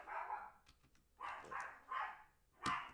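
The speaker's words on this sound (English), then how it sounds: "That's my malicious dog. My big 2-pound toy poodle looking dog" A tiny two-pound toy poodle-type dog barks in four quick, sharp bursts spaced about half a second apart, close to the microphone and fairly loud against a quiet room.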